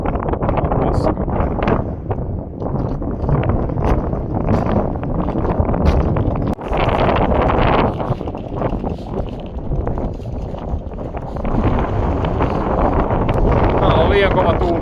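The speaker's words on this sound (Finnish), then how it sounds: "Liian kova tuuli, ei pysty ajamaan enää." Strong wind buffets the microphone on a bikepacking ride through Kyrgyzstan, a loud continuous roar that surges and eases for the whole stretch, with a voice talking underneath.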